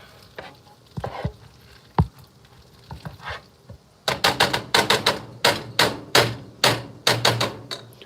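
Bacon-wrapped turkey medallions and mushrooms frying in a pan are stirred, with a steady sizzle under quiet scrapes. These turn into a quick run of loud, sharp clacking strokes, close and without talk.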